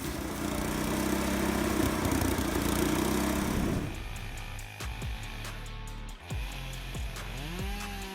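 Husqvarna chainsaw bucking a fallen pine, engine roaring loud and steady under load for about four seconds, then dropping to a lighter idle with revving pulls and a few sharp blips.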